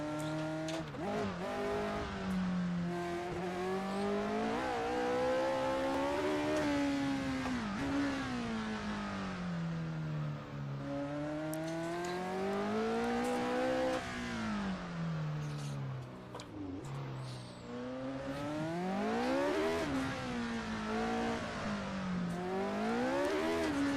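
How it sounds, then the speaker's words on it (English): Historic racing car engine in Assetto Corsa on the Monaco circuit, revving loudly and continuously with rising and falling pitch through gear changes and corners, plus brief tire squeal, with no talk over it. "Just getting a little hint of a car there."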